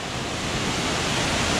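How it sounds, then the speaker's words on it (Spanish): A small waterfall on a river in the mountains of San Carlos rushes in a steady, dense wash of falling water, loud and close, with no voices. "llegamos a esta cataratita"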